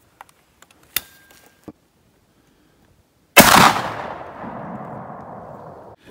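A single loud, close 12 gauge shotgun blast firing a hand-loaded 7/8-ounce Mr. Hollow Point slug at about 2,000 feet per second, with a long decaying echo after it and a few faint clicks of handling beforehand.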